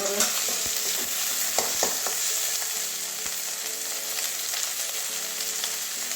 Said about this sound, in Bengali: টমেটো কুচি দিয়ে দিচ্ছি ভেজে নেবো